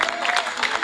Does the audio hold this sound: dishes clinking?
no